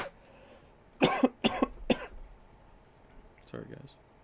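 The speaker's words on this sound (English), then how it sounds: "Had to cough there." A man coughs three times in quick succession, close and fairly loud in a quiet room, then gives a softer cough or throat clear a moment later.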